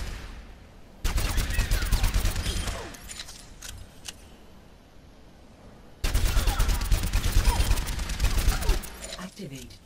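Rapid automatic gunfire aimed at training bots with the tactical visor in Overwatch, two long sustained bursts of loud, dense shots separated by a quieter stretch of scattered echoes and game ambience.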